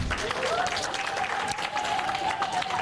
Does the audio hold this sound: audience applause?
yes